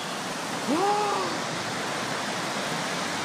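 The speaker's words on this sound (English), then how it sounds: "the 8-metre-high wall of water surged through Toowoomba" A torrential flash flood surges through Toowoomba, an eight-metre wall of water roaring as a constant broadband rush, with a brief rising and falling tonal cry cutting through the noise.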